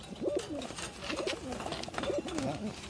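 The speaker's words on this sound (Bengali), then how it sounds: "এই হচ্ছে পায়রা" Pigeons coo in soft, repeated throaty phrases, a few close calls recurring in a steady rhythm against a faint background, with no talk.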